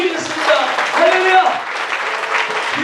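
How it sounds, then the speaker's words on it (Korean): A church congregation at a pastors' seminary session claps in praise, sustained applause mixed with voices calling out over it. "주님께 영광의 박수 돌리겠습니다"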